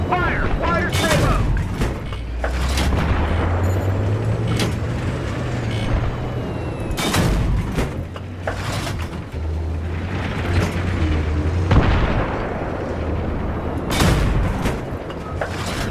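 Tank cannon shots and gunfire in Battlefield 3 during a Thunder Run convoy, with heavy booming blasts and crackling fire over a constant engine rumble, loud and dense, while voices talk throughout.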